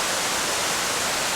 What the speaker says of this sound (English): Of course you've got the soundtrack as well of the river.